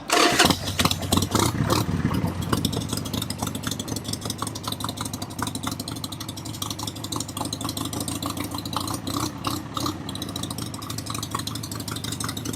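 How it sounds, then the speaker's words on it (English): A Harley-Davidson Sportster motorcycle engine cranks and fires up, then settles into a loud, steady, throbbing idle with a low rumble that continues throughout. "Fire that sucker up. See what it sounds like."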